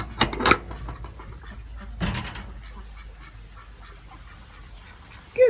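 Ducks at a coop give a few loud, raspy quacks in two quick clusters, then quieter scattered calls over low outdoor background noise, ending with one more call.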